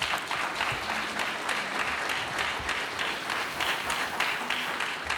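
An audience at an event celebrating essays on Nana Dr. S.K.B. Asante breaks into sustained, even applause, many hands clapping together at moderate distance throughout.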